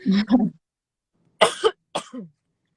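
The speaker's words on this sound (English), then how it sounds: "Sorry, I have a little cough." A few harsh coughs, a pair and then a quick double cough after a short pause, close and fairly loud with no speech.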